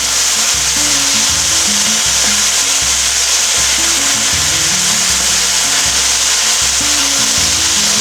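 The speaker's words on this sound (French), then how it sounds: "nos oignons, ils sont en train de dorer" Onions brown in a pan for tartiflette with a loud, continuous frying hiss. A regular rhythmic scraping of stirring sounds throughout, with no talking.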